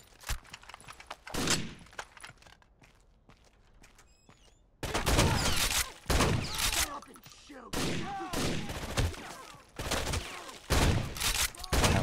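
Repeated shotgun blasts and gunfire in Rainbow Six: Vegas 2 burst out in dense, loud volleys after a quieter opening, with brief gaps between shots and some speech mixed in.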